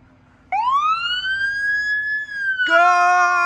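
A fire engine siren responding to a call starts abruptly, a loud rising wail that holds steady and then shifts into a harsher, denser tone near the end, close and dominant with no speech.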